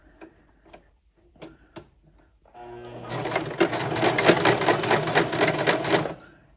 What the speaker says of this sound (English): And then I'm just going to sew it.